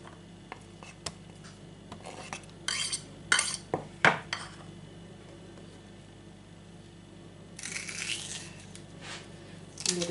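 A knife slices a bell pepper into fine strips on a cutting board, giving a scattering of sharp taps and scrapes clustered around the middle and end, with quiet gaps between.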